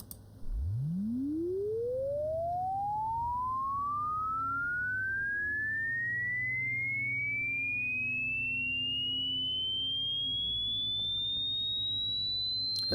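A hearing-test sine tone sweeps smoothly and continuously upward in pitch from very low to high, loud and alone, over about twelve seconds.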